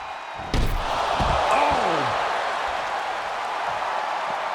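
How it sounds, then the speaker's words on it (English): Ambulance doors slam shut during a wrestling match in the WWE 2K24 video game, one sharp loud bang followed by lingering crowd noise and game ambience. "Throw her in the ambulance and shut the doors."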